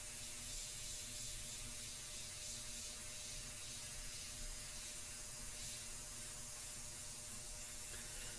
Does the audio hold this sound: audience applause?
no